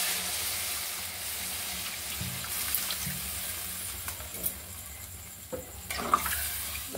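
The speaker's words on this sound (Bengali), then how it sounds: "এবার আমি জল ঢেলে দিচ্ছি।" Water poured into a pan of hilsa fish curry with potatoes, giving a steady hiss and sizzle that holds at a moderate level for several seconds, with a few clinks and stirring knocks near the end.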